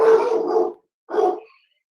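A dog barks twice in a house, first a long, loud bark, then a short pause and a shorter second bark, close to the microphone.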